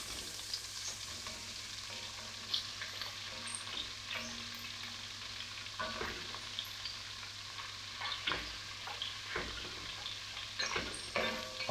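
Pieces of lamb shoulder frying in very hot oil, giving a steady close sizzle with scattered crackles and pops and occasional utensil clicks, with no talking.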